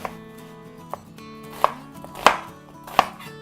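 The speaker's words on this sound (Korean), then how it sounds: "양파를 썰어 주시고요" An onion cut into large chunks with a knife on a cutting board for gan-jjajang, five distinct crisp chops at an uneven pace, close and clear with no talking.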